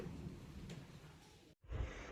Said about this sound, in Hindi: सीन काल राती के जो बारिश और आंधी के साथ जो तूफान के साथ आ रहल